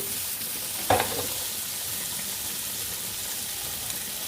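Giant taro (mankochu) being stirred in a hot pan, with a steady close sizzle and one brief scraping stir near the start.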